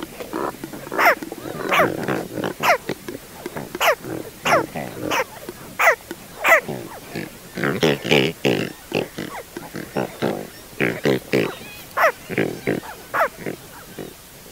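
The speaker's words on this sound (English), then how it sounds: "here are some professionally recorded pelican sounds" Brown pelicans giving repeated harsh grunts and higher squeals, adults grunting and young squealing, in a dense, close, irregular series of short bursts that runs without pause.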